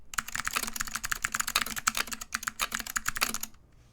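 Rapid, steady clacking from a Duck Orion v2 mechanical keyboard with unstabilized keys, each keystroke distinct and close, a few heavier thocks mixed in before the typing stops.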